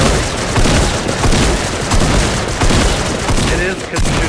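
Dense, loud gunfire in a video game rattles continuously in overlapping rapid shots, with a voice talking faintly beneath it.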